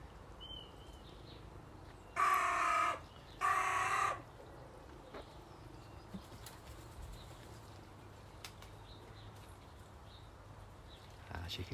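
Two short bursts of bird calls, each about a second long, ring out close by against quiet background noise and soft rustling.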